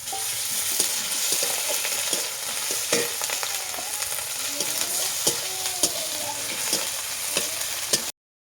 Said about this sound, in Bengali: দেখতে পাচ্ছি বন্ধুরা, আমার পেঁয়াজ ভাজা হয়ে গেছে